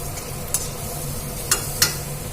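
Peanuts and urad dal fry in a tempering for mustard rice: a steady low sizzle with a few sharp scrapes and clicks from stirring, close and fairly quiet, with no voices.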